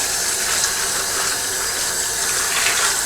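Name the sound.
tap water poured over aquarium filter media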